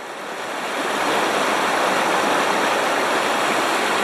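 A river with dangerous rapids rushes steadily, a broad continuous roar of churning water that swells in the first second and then holds loud and unbroken, with no voices.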